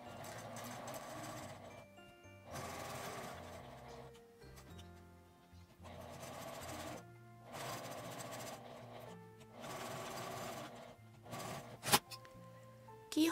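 A sewing machine stitches a small fabric-scrap book keychain in short bursts, with the edge eased by hand, under steady background music.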